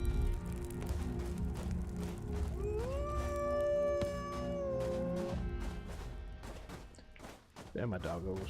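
Dogs in the survival video game Fade to Silence let out a long rising howl over a busy game soundtrack, one drawn-out wavering cry followed by scattered thumps and rustling effects.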